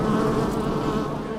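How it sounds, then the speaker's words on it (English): Honey bees from a Minnesota colony buzz in a loud, close, continuous drone that holds steady throughout with no voices. "the bees are back and as busy as ever"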